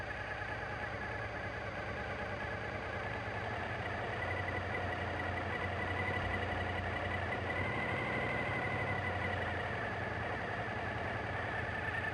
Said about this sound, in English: Carefully open the lever until the engine RPM rises to 1400.